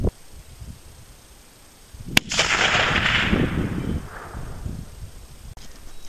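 A single loud rifle shot cracks out at a 200-yard target outdoors, followed by a rushing, decaying boom and echo that fades over a few seconds against light wind noise.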